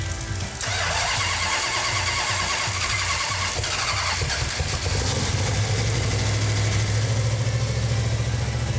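A 1971 Plymouth 'Cuda 340 V8 convertible cranks for a few seconds, catches and settles into a loud, rumbling lopey idle, close up and without talk.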